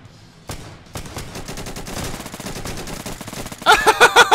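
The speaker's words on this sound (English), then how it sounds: "Where are those shots coming from?" Rapid bursts of gunfire from the video game Burst, loud and close, starting with scattered shots and building into a sustained crackling volley, ending in a few heavy, evenly spaced blasts.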